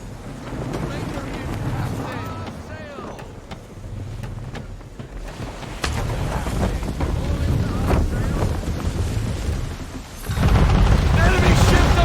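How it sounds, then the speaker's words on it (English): Strong wind gusts rush over a sailing ship at sea in Assassin's Creed 3, loud and steady with waves and creaking beneath, swelling sharply near the end while voices shout over the din. "Rogue wind!"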